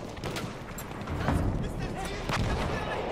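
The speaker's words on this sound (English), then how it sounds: "Where the hell are they shooting at?" Video-game gunfire around a Gewehr M95 rifle: repeated sharp shots and booming reports crackle close and far in irregular bursts, while players talk over the din.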